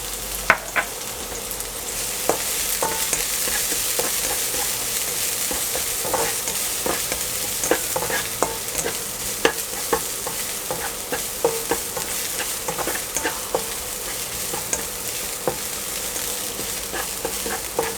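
Pounded spice paste stir-fries in a hot pan for old-style pork rice porridge, giving a continuous loud sizzle with frequent sharp scraping taps from the spatula and no voices.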